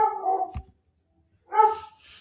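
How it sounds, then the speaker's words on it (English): A dog barks in the background indoors: two short, sharp barks separated by a pause, moderately loud and heard alone without talk. "I have my dog barking in the background"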